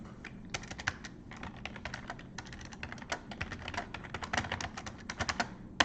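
Rapid, irregular clicking of keys on a computer keyboard, heard close and steady, with bursts of fast typing and brief pauses and no talking.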